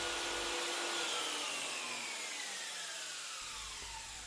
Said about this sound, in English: The soft start feature means the saw kicks into life gently